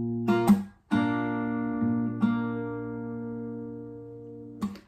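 Acoustic guitar plays a picked-and-slapped strumming pattern for a pop ballad, with plucked bass and treble strings, percussive slaps, and chords left ringing between the attacks.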